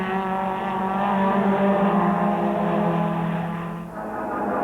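A 220-horsepower Vauxhall Astra touring car races at Thruxton during a 1989 British Touring Car Championship round, its engine a loud, sustained high-revving howl as it passes another car, with a slight dip near the end.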